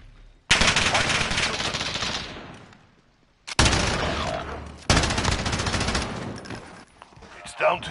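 Automatic gunfire rattles in Call of Duty: Modern Warfare's Gunfight mode. Three loud sustained bursts are separated by short pauses.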